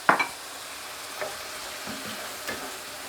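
Browned meat and finely chopped red onions frying in a pan, a soft steady sizzle with a sharp utensil scrape at the start and faint stirring scrapes after.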